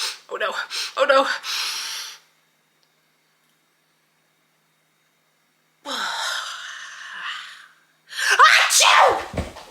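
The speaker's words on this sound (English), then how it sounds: "Achoo!" A person sneezing loudly and close up amid breathy gasps and sighs, with a long silent gap before more sniffly, sneeze-like outbursts; some vocal sounds mixed in.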